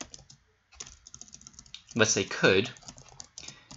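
Quick typing on a computer keyboard during a live exam-review session, soft rapid clicks with a louder burst of keystrokes midway, heard under a person speaking briefly.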